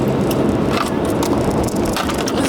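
Ice crunches and crackles continuously under pressure, a loud, close, gritty grinding texture with scattered sharp snaps throughout.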